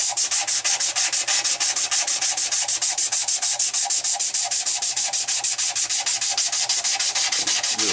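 A knife handle being sanded by hand with 100 grit flexible sandpaper: fast, regular back-and-forth rasping strokes, close and loud, repeating evenly about five times per second without any talk.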